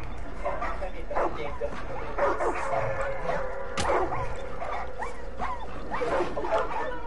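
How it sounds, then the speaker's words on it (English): Dogs in the video game Far Cry 5 yip, whimper and bark in short bursts at moderate distance, mixed with in-game ambience and a person talking over them. "Hi, puppy dogs."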